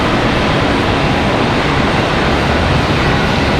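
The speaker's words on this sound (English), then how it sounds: "What about our CRJ? That one coming in from Chattanooga," A CRJ jet airliner arriving at Charlotte airport gives off a loud, steady broadband engine roar that fills the whole stretch without letting up.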